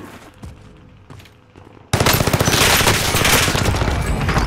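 Heavy gunfire in Fortnite erupts suddenly after a quieter stretch and rolls on as a loud, dense, continuous burst of rapid shots until the end.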